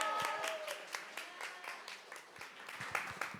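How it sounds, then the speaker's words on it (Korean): Audience applause at a gender-equality roundtable, a modest group clapping steadily with distinct rhythmic claps standing out over a soft background, fairly faint overall. "다시 한번 큰 박수 부탁드립니다."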